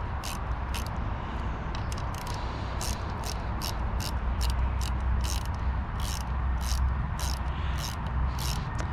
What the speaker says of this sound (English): These little ratcheting 10mm wrenches or just any ratcheting wrenches